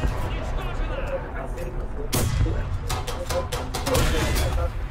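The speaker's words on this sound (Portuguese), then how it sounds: "Abaixa, abaixa! É muitos tiros!" Gunfire in a tank combat video game, with an M36 tank destroyer present, crackling in rapid bursts over constant low engine rumble, with sharp louder volleys in the second half and excited speech mixed in.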